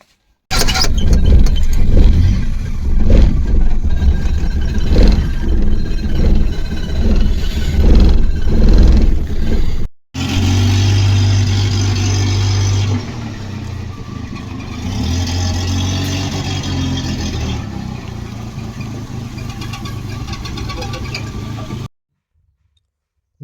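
A car pulls away at six in the morning for a long drive from Nashik to Satana. A loud, close engine drones steadily, changes character partway through and keeps humming for about twenty seconds before cutting off.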